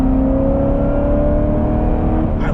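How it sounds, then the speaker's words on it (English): A C7 Corvette ZR1 pulls hard inside a tunnel, its supercharger whining as a rising tone over a loud, dense engine and exhaust roar that stays close and constant. "And that supercharger whine."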